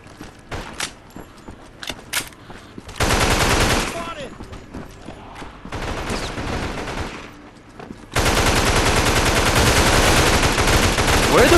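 Automatic gunfire in the zombie shooter Mega Zombie beta, loud sustained bursts of rapid shots broken by short gaps, with scattered single shots and game effects between volleys.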